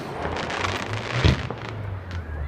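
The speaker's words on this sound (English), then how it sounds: "Some people got crazy sounding fireworks" Bonfire Night fireworks crackle and pop in the open, with one stronger bang near the middle over a steady wash of distant bursts and outdoor rumble.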